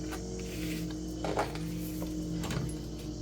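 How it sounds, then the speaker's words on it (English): A sewing machine stitching gusset pieces together, giving a steady, low mechanical whir with a brief louder bump partway through, close and alone without talk. "we're going to sew these together"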